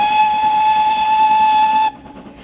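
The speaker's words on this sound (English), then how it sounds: "We hope to catch sight of the Dartmouth Railway train as it passes us by." The GWR Goliath 5239 steam locomotive on the Dartmouth Steam Railway sounds a loud, sustained steam whistle for about two seconds on an outdoor line, then it cuts off abruptly, leaving quieter rumble.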